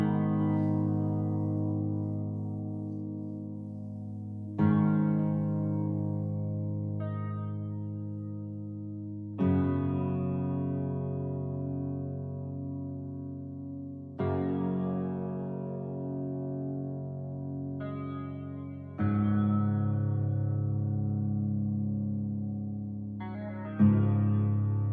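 Looping background music from the survival video game 7 Days to Die, heard alone with no talk: sustained pad-like tones that restart about every five seconds with a soft attack, drenched in echo and reverb.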